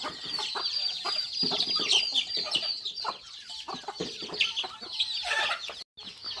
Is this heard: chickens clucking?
yes